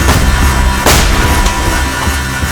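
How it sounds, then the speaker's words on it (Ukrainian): A single loud gunshot cracks sharply over a noisy background, followed by a fainter echoing report. "Постріл!"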